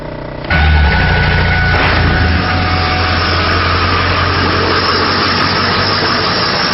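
A large diesel engine in an old truck cranks and catches, then settles into a loud, steady rumbling idle close by, with no voices.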